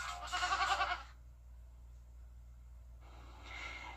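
A goat bleats in a TV commercial, one loud wavering cry near the start followed by a quieter breathy snort toward the end.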